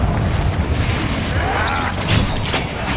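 A Confringo spell blast in Hogwarts Legacy, a loud booming explosion that stays dense and rumbling throughout, with a brief crackling swell near the end and no clear talk.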